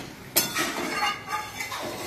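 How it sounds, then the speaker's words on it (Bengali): A spoon scrapes and clinks against a pot as fish curry gravy with added water is stirred, a sharp metallic knock at the start followed by soft wet sloshing and scraping, close and brief. "জল দিয়ে আবার এটাকে নাড়াচাড়া করা হচ্ছে।"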